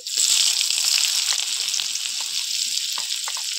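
Chopped onions and panch phoron frying in hot oil, a loud, continuous close sizzle with faint crackles and occasional stirring sounds, no talking.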